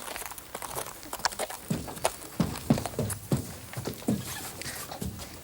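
A horse's hooves walk as it is led into a trailer, giving irregular, fairly close thuds and scuffs on the ramp and floor, with no voices over them.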